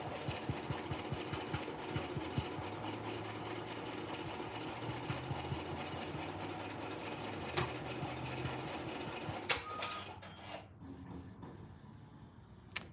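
An embroidery machine stitches a design in matte thread with a fast, steady mechanical chatter that runs continuously before pausing and stopping near the end, with no talk over it.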